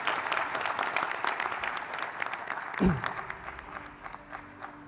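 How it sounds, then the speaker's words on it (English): Audience clapping at a startup pitch event, moderately loud at first and fading out, with a brief thump partway through and a low hum left at the end. "let's give a round of applause for Wonsa."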